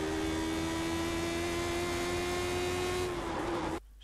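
A race car engine holds full throttle on a lap of Spa Francorchamps, giving a steady, loud, high-pitched drone that rises slightly before cutting off abruptly near the end.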